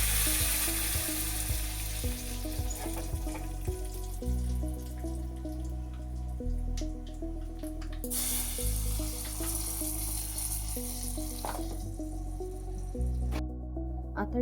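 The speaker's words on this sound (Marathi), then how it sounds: "तेल छान गरम झाल्यावर त्यात राई घालायची, लाल मिरच्या घालायच्या, हिंग आणि कढीपत्ता घालून ही फोडणी" Mustard seeds, red chillies, asafoetida and curry leaves hit hot oil for a tempering, giving a steady close sizzle and crackle with scattered pops and some faint clatter.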